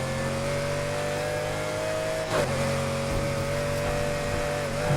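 A car engine in the racing game Need for Speed Heat revs steadily and accelerates, loud and continuous with a brief shift partway through, with no voices over it.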